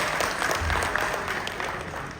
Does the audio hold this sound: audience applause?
yes